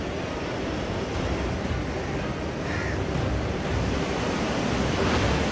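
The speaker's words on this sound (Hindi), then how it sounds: "पानी की ये रफ्तार और ये शोर दिल्ली के लिए खतरे का संकेत है।" Floodwater on the swollen Yamuna roars through the open gates of the Hathnikund Barrage in Haryana, a dense, continuous, loud rushing wash with no breaks and no talk.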